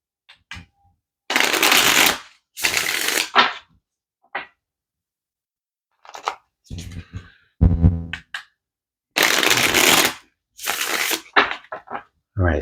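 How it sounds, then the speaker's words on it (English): Tarot cards are shuffled by hand in a series of crisp riffles and rustling bursts, close and loud, with short pauses and lighter flicks of the cards in between. "Let's get one more shuffle"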